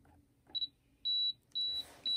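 A camera's self-timer beeps four times before the shutter releases: short, high electronic tones at a steady, even pace, close and clear against a quiet room.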